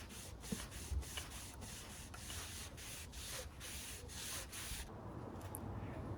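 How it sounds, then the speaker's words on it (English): A cloth rubs briskly over the suspension rails of a Kingsong electric unicycle during a bearing replacement, making close, steady scrubbing strokes in a regular rhythm for about five seconds before fading to quiet. "Just get this bit of cloth in, give it a good clean."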